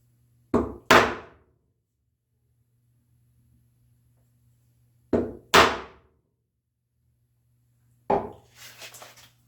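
Hammer blows on a wide chisel cutting dadoes for shelves in a walnut bookcase: three sharp, close strikes, two in quick doublets and a final one trailing into a light scrape, separated by quiet pauses.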